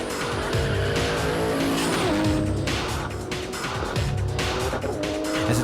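Street drag car on Mickey Thompson street radials launches down a drag strip, a loud sustained engine roar with tyre squeal throughout, no talking.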